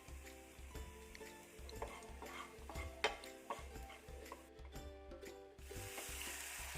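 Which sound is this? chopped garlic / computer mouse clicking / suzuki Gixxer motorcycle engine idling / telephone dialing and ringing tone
chopped garlic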